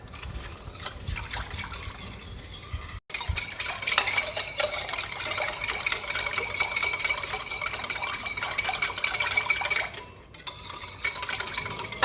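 Cake batter with vanilla being mixed in a bowl, a continuous wet scraping and stirring with quick repetitive strokes, close and fairly quiet, broken by a brief pause and a slight dip near the end.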